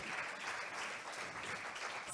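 Brief, steady applause from a plenary audience at the VoxDemeter forum, even and continuous, heard fairly quietly with no talking over it.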